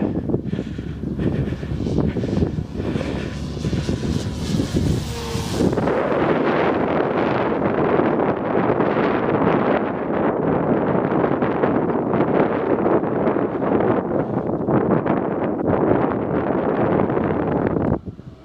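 An FMS P51D radio-controlled model plane flies in strong wind, its motor drone steady and loud throughout, buried under heavy buffeting wind rumble against the microphone.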